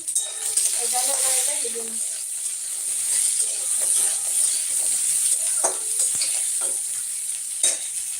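Lentil dumplings (bori) browning in very hot oil, a steady close hiss and sizzle with occasional utensil clinks and stirring, a brief voice near the start.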